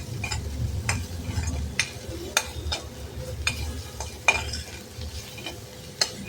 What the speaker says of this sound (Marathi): ते तेलात छान परतलं पाहिजे